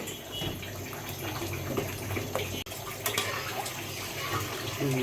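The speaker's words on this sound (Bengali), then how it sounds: "ডালটা ঘোটা হয়ে গেছে। এখন আমি পানি দিয়ে দিব।" Water is poured into a pot of mashed cooked lentils (dal) as a steady, moderately loud splashing stream running for several seconds, with brief clinks and a short break midway.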